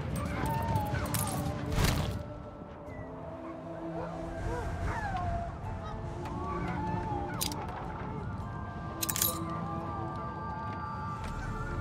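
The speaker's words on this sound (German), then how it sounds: "Gänse, Gänse, Gänse, Gänse, Gänse." Geese honk in the city-building game Anno 1800, with several short, rising calls scattered over a steady bed of in-game ambience and a few brief louder clicks.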